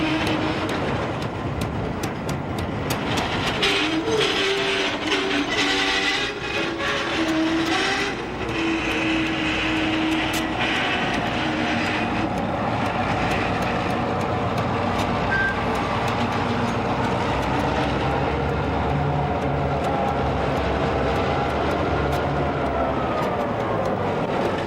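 A freight train hauling tri-level autorack cars climbs a short grade near Woodstock, a steady loud rumble of wheels and engine with squealing and clanking of cars rolling past close by, with no voices.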